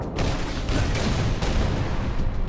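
Gunfire and explosions in the Halo Reach video game form a dense, continuous barrage of close, loud shots and booms filling the whole short burst.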